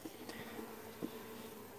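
Honey bees in a weak hive give off a soft, steady buzzing hum heard close up, with a few brief louder tones rising out of it and no talk.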